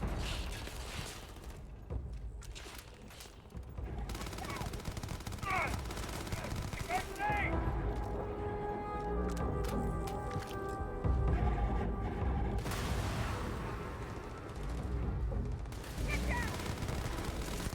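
Gunfire in the video game Starfield, with bursts of shots and crackling fire running under a constant mechanical game soundscape, while in-game voices speak over parts of it.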